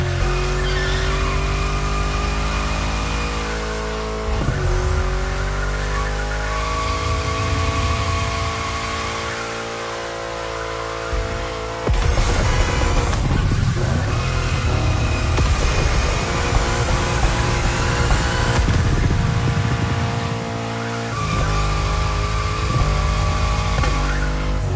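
Racing cars in the video game The Crew roar with loud revving engines and repeated tire squeals through corners, the engine note rising and falling with sharp shifts, close and continuous.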